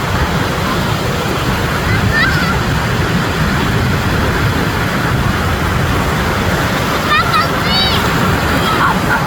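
Ocean waves at Kata Beach in Phuket, Thailand, roar as a steady, loud wash of surf throughout, with faint distant voices and brief high bird-like calls on top.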